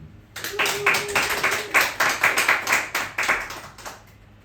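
An audience claps at a reading event, a burst of applause that starts after a brief pause, holds with a steady rhythm of overlapping claps, then tapers off near the end.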